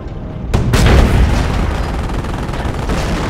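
Gunfire and explosive booms from the Company of Heroes: Opposing Fronts game during the Liberation of Caen battle, a loud sudden blast followed by a sustained dense rumble of artillery and weapons fire.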